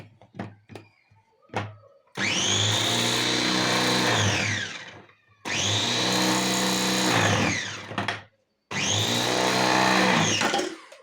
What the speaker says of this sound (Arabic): دابا داك الفرفاره طلعت ليا القزبر والمعدنوس الفوق